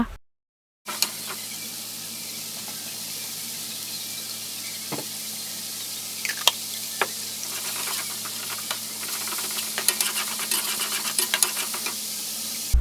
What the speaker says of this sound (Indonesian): Nah ini untuk tumisannya aku tumis sampai benar-benar wangi gitu ya, sampai matang biar nggak langu untuk lomboknya